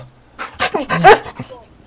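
Dog in a video game giving a short run of whimpering yips and barks, close and loud, lasting under two seconds.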